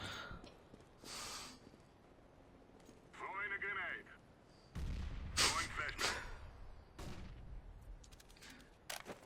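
Gunfire rattles in Counter-Strike: Global Offensive, with short bursts of shots scattered across the clip at moderate loudness and a brief voiced sound in between.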